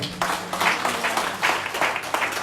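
At a church wedding a congregation applauds to acclaim the Lord, giving steady, dense clapping from many hands throughout, loud and close.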